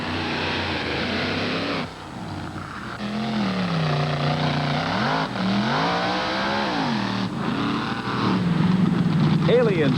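Monster trucks at a 1988 Columbus, Ohio race leave the starting line, big engines revving and surging in rising and falling pitch sweeps, loud and close, with an announcer talking over the roar.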